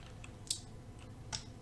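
A few faint, sparse clicks of keys on a computer keyboard while entering a banner command in Cisco Packet Tracer config mode, two sharper taps standing out over a low room hum, no voices.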